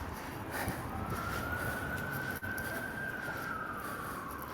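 A police car siren wails faintly in the distance, one long gently rising and falling tone held under a hissing, noisy background.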